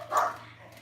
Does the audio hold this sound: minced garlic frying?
no